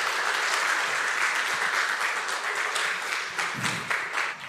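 Loud, dense applause from a crowd, a steady wash of clapping that holds strong before easing slightly at the end.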